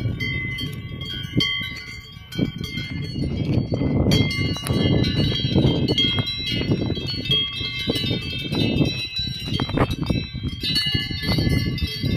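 Cowbells on grazing cows on Moléson mountain in Switzerland clang and jingle continuously, many bells ringing irregularly at varying distances, some close and loud, over open-air wind noise.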